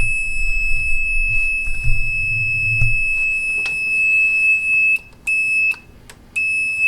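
An alarm goes off in a workshop with shrill, high electronic beeps. It starts with scattered bursts, then settles into a sharper on-off pulsing pattern with short gaps, loud and close.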